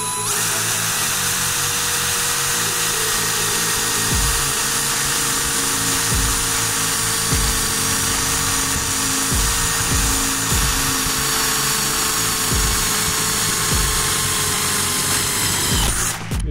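Bosch GSB 185 Li cordless drill boring with an 8 mm bit, a steady close whine of the motor running continuously with brief load dips and changes in pitch, then stopping at the end.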